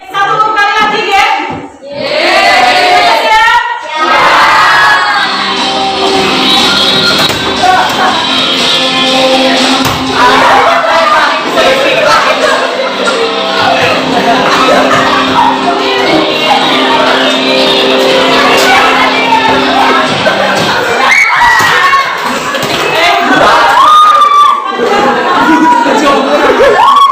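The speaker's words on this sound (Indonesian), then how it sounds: "Tepuk tangan untuk kelompok 2." A classroom of students applauds and cheers for a group after its presentation, loud busy clapping mixed with shouts and chatter that carries on for a long stretch, with a teacher's voice at the start.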